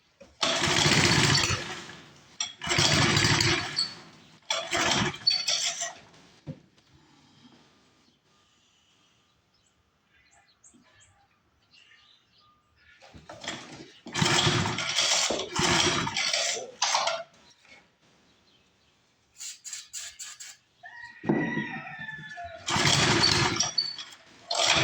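A 1962 Hahn Eclipse rototiller engine being cranked repeatedly, bursts of rough mechanical churning separated by quiet pauses, with people talking quietly between attempts.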